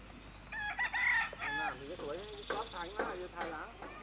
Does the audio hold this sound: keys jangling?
no